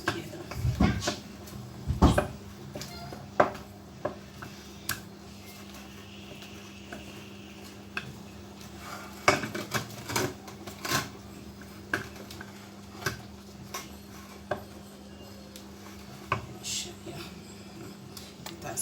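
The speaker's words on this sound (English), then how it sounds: "turn it until there won't be any lumps to make sure that all the flours are mixed together." Flours for okpa being stirred together in a bowl, a scattered series of scraping and tapping knocks of the spoon against the bowl, moderately close, with quiet pauses between strokes.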